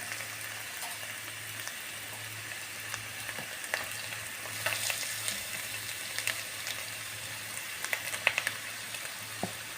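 Onions cooking in a pan for a drumstick and soya mixed vegetable dish, a steady close sizzle with scattered small crackles and a few light clinks, continuous throughout with no talk.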